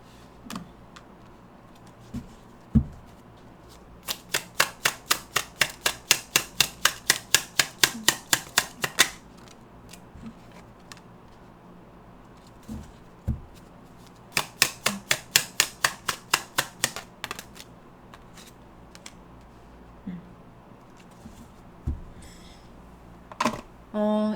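Tarot cards are riffle-shuffled in two rapid bursts of crisp, evenly spaced flutters, each lasting several seconds, with scattered single taps and card handling between them, close and moderately loud.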